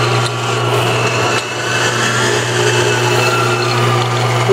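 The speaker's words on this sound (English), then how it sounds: "Here we have a TurnPro 20-inch drill press, 230 volt single phase." A TurnPro 20-inch drill press, 230 volt single phase with an adjustable belt drive, runs steadily with a constant motor hum and a low drone, close and fairly loud throughout, with no one talking.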